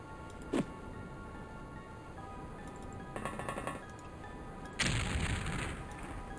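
Explosions and impact bursts from X-COM: Terror From the Deep gameplay: a sharp crack near the start, a rattling burst midway, then a heavier boom with a lingering noisy tail near the end, over a steady electronic hum.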